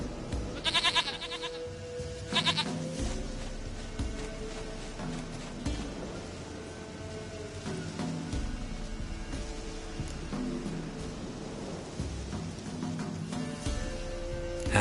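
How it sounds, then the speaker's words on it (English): Game goat bleating in short repeated bursts, steady and moderately loud over continuous in-game background sound and music, with no voices over it. "Goat of mine, dearest,"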